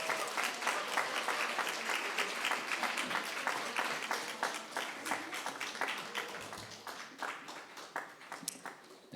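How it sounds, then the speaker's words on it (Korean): Applause from a church congregation during a gift presentation at a Sunday school graduation ceremony, sustained dense clapping that slowly tapers over several seconds, fairly distant in a large hall. "선물 전달될 때 많은 박수로 축하해 주시기 바랍니다"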